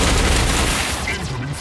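Gunfire and explosions from the mech combat game Mech Arena form a loud, unbroken barrage of rapid shots and booming blasts, dense and close for the whole stretch.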